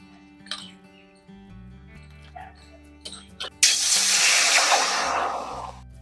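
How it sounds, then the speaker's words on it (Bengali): Water poured into a hot wok (karai) to steam cauliflower sets off a sudden loud, broad hiss that fills the second half, after a quieter stretch with background music and small clinks. "এবার আমি কড়াই গরম হয়ে গেছে, কড়াইয়ে জল দিয়ে একটু ভাপ দিয়ে নেব।"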